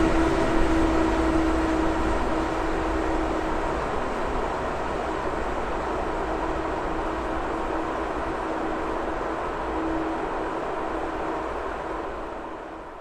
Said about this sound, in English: The weekly Kingsbury to Baxton oil train is seen behind the usual GBRF Class 66 power.